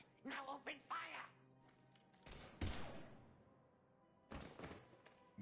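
Bursts of sci-fi weapon fire in Mass Effect 3, a few sharp thunking volleys separated by pauses, with voices talking between and over the shots.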